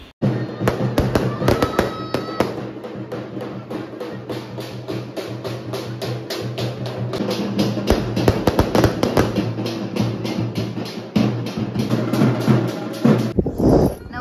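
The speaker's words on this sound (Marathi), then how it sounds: "बघा एकदम मस्त अशा फटाक्याने आम्ही त्यांचं स्वागत केले" Firecrackers welcome the groom at a wedding haldi celebration, a long, loud, rapid string of sharp cracks going off nearby for over ten seconds, ending with a few final bangs.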